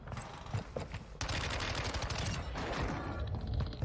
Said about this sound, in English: Pulls out his AR for the long-range gunfight.